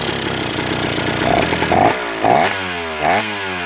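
Small KDE100 engine running hard and buzzing like a chainsaw, then revving up and settling in rising and falling surges as it tries to idle down.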